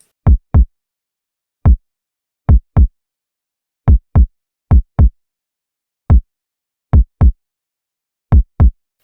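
Isolated kick drum hits, deep and punchy, played alone in an irregular pattern of single and paired thumps with silence between.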